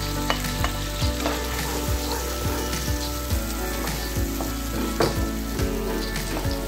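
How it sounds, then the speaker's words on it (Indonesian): Onions and shallots sautéing in a pan, a close, steady sizzle of frying with repeated scraping stirs of a utensil against the pan. "Tumis hingga mengeluarkan bau harum dan agak sedikit layu"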